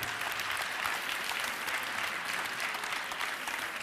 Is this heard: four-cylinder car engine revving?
no